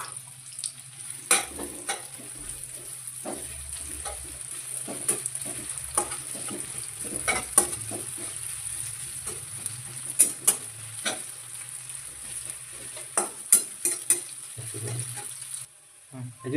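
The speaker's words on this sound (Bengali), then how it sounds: "তেল গরম হয়ে গেছে, প্রথমে পেঁয়াজটা দেবো।" Onions fry in hot oil for a mutton curry, a constant sizzle broken by repeated scraping and clattering strokes of a spoon stirring the pan, with no voices.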